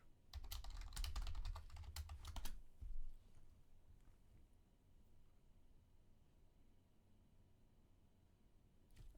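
A computer keyboard typing a password during Cisco network switch setup: a rapid, close burst of keystrokes for about two and a half seconds, then near silence with faint room noise.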